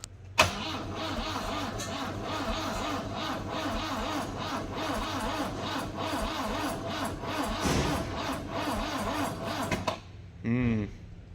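A built 400 hp big turbo four-cylinder car engine cranking on its first start attempt, with a loud rhythmic starter churn that runs for several seconds, cuts off, then a short second crank.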